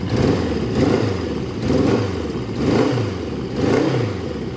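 Suzuki GS550 motorcycle engine, still a little cold, running near and loud with four steady surges of revving at roughly one-second intervals, no voices.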